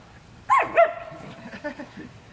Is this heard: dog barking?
yes